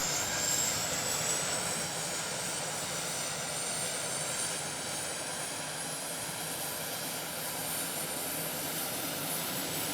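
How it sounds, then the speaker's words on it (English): The turboprop engines of a Turbo DC-3 aircraft spool up with a steady, loud roar and a rising high-pitched whine that climbs slowly throughout. "When starting the engines, you can immediately hear the difference. The turboprop sounds like a jet"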